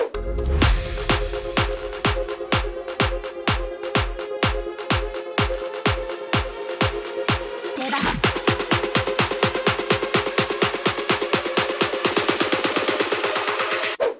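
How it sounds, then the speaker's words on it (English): Bass house build-up made in FL Studio: stacked loops and risers with a steady four-on-the-floor pulse that thickens and brightens halfway through, driving loud and continuous without any voice. "The build-up loops and risers all together, they sound like this."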